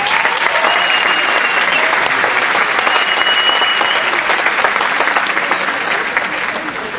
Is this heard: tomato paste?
no